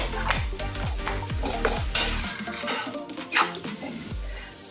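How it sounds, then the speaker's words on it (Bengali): A metal spatula scrapes and clanks repeatedly in a pan of egg tadka with dal and spices, a steady run of clattering strokes over a low sizzle, with no talk. "খুন্তিতে ঠিক এভাবে বারবার মিশিয়ে দেবো"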